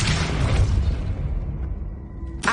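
A Depulso force-push spell from Hogwarts Legacy lands as a dense, rumbling blast that swells and slowly fades, ending with a short sharp burst.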